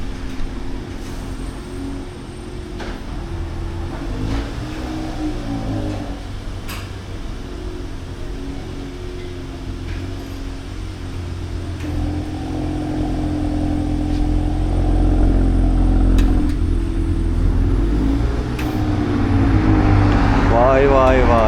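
A VW Golf R engine idles and revs with a low, steady rumble that swells gradually, its exhaust valves opening and closing, while people talk over it nearby.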